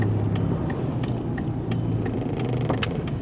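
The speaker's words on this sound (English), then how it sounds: "So I hear road noise, tire noise right now" Steady road and tire roar inside a car braking on fairly new tires, a continuous low rumble with faint clicks and rattles, no talking.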